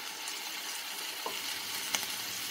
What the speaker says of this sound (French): Je verse ensuite le mélange au vin blanc.